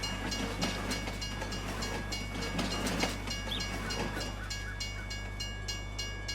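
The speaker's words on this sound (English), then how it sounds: "Oh, there's a train." A train passing nearby, with a steady low rumble and rhythmic wheel clatter over the rails that holds throughout, without any voices.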